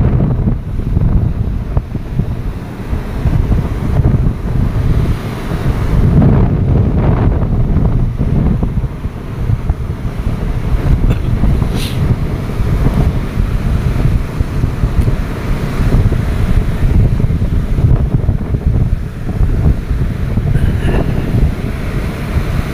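Strong wind buffets the microphone while rough sea waves crash and surge continuously at a Philippine shoreline, a loud, dense roar with gusty swells throughout and no talk.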